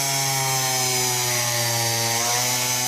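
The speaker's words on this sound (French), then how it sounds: "On peut percer direct." A small Ferm cordless multifunction drill runs at high speed while drilling, giving a steady, close, high-pitched motor whine that holds evenly throughout, with no talking.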